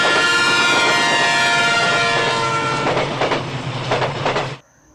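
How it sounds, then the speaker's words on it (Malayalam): A train rumbles past in a film scene, loud and close, with a sustained horn-like tonal blare over rolling wheel clatter before the sound cuts off abruptly near the end. "പക്ഷെ തൊട്ടടുത്ത സീനിൽ ട്രെയിനിൽ വരുന്നതായി കാണിക്കും"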